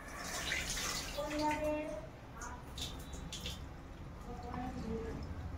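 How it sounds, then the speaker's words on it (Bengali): Rice is washed in water, with faint sloshing and dripping close by in a quiet room. "তার জন্য ভাতটা চাপিয়ে দিয়ে আগে চালটা ধুয়ে নিচ্ছি।"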